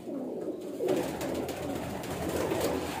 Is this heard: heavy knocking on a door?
no